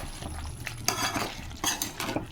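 Spoon scraping and stirring through a thick drumstick chicken curry in a pot, with a few sharp clinks against the metal amid a steady low simmer, close and fairly loud.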